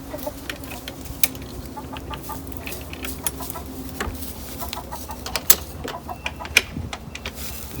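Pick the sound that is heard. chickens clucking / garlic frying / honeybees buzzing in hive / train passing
chickens clucking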